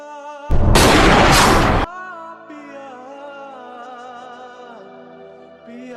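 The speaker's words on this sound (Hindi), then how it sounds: "ये तो गन की वॉइस थी ना" A loud, sudden burst like a gunshot effect in a Hindi-Urdu dubbed drama, lasting over a second against a held musical tone that carries on after it.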